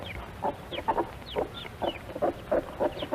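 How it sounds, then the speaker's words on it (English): Several Plymouth Rock hens on a poultry farm cluck in short, repeated bursts at close range, with soft overlapping calls and light background noise. "These are Plymouth Rock chickens."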